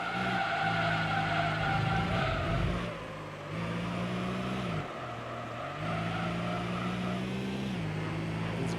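Heavy car sliding and skidding through corners in the racing game Gran Turismo Concept 2002 Tokyo-Geneva, a steady loud engine drone with tire scrub, dipping and surging as the car slides through several bends.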